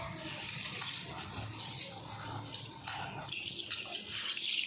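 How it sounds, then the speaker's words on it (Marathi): Rice is rinsed with water for dosa batter, with close, steady sloshing and running water and brief louder splashes, no voices. "आता याच्यामध्ये पाणी घालून ना त्याच्यातलं घाण पाणी निघेपर्यंत स्वच्छ पाणी जोपर्यंत दिसत नाही तोपर्यंत त्याला स्वच्छ स्वच्छ दिखून घ्यायचं आहे"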